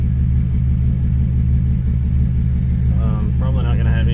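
A straight-piped BMW Z4 with headers and a freshly installed engine runs extremely loudly, its deep rumbling idle steady and close, with a rising rev toward the end.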